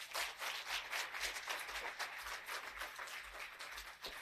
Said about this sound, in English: Let's give Kone a big round of applause